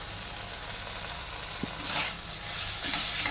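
Elephant foot yam curry sizzling steadily in a pan over a low flame, with a soft continuous frying hiss and a few faint stirring clicks, heard alone without voices.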